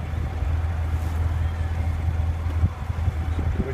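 A 2014 Corvette Stingray convertible with valved exhaust idles steadily, a deep low rumble holding close and constant, slightly swelling near the end.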